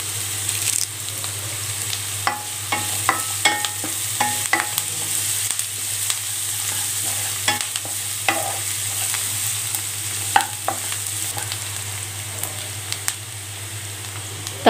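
Curry leaves sizzle steadily in hot oil in a pan while being stirred for vegetable pulao, a continuous close frying hiss broken by frequent soft scraping strokes of the spoon.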